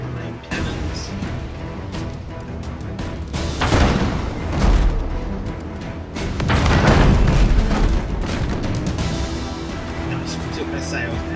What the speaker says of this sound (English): You jump on the main cannons.